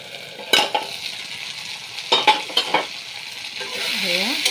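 Potato and eggplant fry in hot oil with a steady sizzle, broken by several sharp scraping stirs of the pan, close and fairly loud, with no talking.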